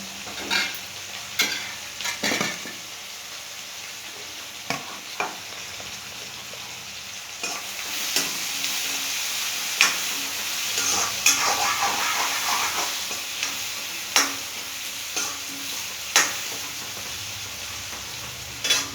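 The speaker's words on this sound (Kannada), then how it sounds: "ನೋಡಿ, ಈ ಥರ ಫ್ರೈ ಆಗ್ತಿದೆ" Egg masala fries in oil in a pan, with a continuous sizzle under repeated scraping and clinking stirs of a spoon at an uneven pace, close and fairly quiet.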